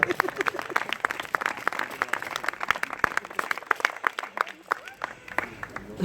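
An audience at a carnival prince introduction in Virton claps continuously, a dense patter of many hands applauding at close range that fades slightly toward the end.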